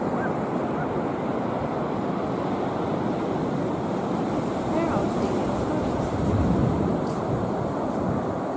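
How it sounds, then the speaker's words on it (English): Waves break and wash onto the beach at White Rocks, Portrush, in a constant loud roar of surf mixed with wind buffeting the microphone, swelling slightly toward the end. "The waves are getting up now"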